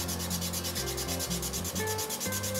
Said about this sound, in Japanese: もうこれでもうバシバシ削っていきます。